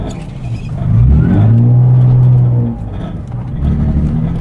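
A Nissan 350Z drift car engine revs loudly up close, climbing into a sustained high rev that holds for over a second, falls back, then builds again toward the end.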